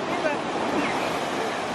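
Surf rolling in at Manhattan Beach on a sunny holiday weekend, a steady broad wash of waves and wind noise, continuous and fairly loud with no distinct breaks.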